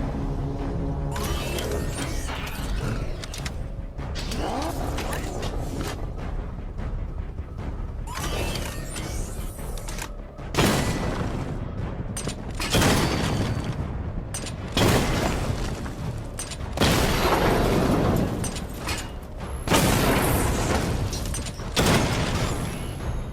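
Missile barrage explosions in the video game Batman: Arkham Knight, loud repeated booming blasts and shattering crashes in bursts, with mechanical clanks between them.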